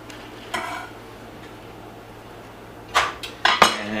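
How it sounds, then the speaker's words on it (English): Octopus and garlic stirred in a pot, a few scraping clinks of a utensil against the pot with a faint sizzle underneath, one early scrape then a quick cluster of clanks near the end. "And we're gonna give this a quick stir."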